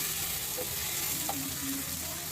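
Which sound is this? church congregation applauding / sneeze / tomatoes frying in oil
tomatoes frying in oil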